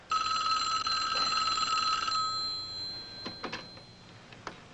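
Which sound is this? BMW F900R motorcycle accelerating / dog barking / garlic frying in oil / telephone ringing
telephone ringing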